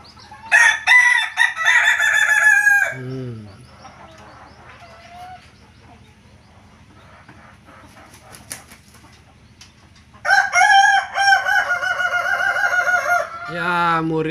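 Roosters in a crowing duel, two older birds against one younger, call out in turn: one long, loud crow opens, followed after a quiet gap of scattered clucks and wing sounds by a second full crow answering back, close to the listener.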